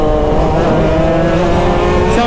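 Go-kart engines racing past on a track, loud buzzing high-revving whines that rise and fall in pitch as the karts pass nearby.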